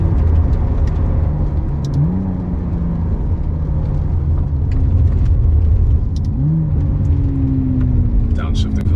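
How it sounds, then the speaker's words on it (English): A 2024 McLaren Artura's engine drones steadily from inside the cabin, with two brief rising blips as it downshifts, all under a continuous road and engine hum. "Downshifting feels nice."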